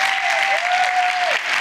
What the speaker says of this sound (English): If we can put our hands together and just give them a round of applause.